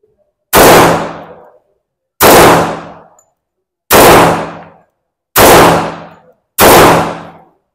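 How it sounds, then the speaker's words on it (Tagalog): Five loud, sharp shots from a Colt Government Model MKIV Series 70 .45 caliber competition pistol, fired singly at roughly 1.5-second intervals, each with a brief ringing decay and no talk between them. "Testingin na natin itong 45 caliber ng Colt na competition series nila."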